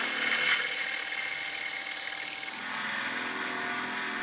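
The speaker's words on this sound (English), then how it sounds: "started by drilling out the rivets in the tracks so we could remove them." A steady power-tool whine hums continuously at moderate loudness as a drill bores out metal rivets from sail tracks on a sailboat, with faint background noise.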